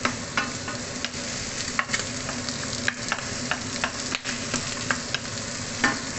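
Garlic sizzling in a hot pan for a pork and vegetable stir-fry, a dense crackling hiss with sharp spattering pops at irregular intervals, close and steady.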